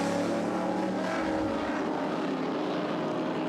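A Chevrolet Camaro race car roars through a circuit chicane, a loud sustained engine note that stays steady and close for several seconds.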